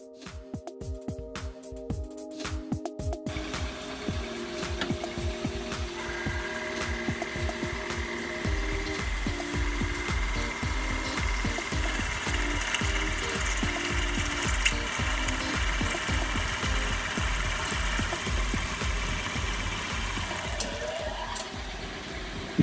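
A milling machine spindle bores a hole in metal with a ground-down old tap used as a boring bar, giving a continuous loud mechanical whir with rhythmic knocking pulses as the tool starts to clog.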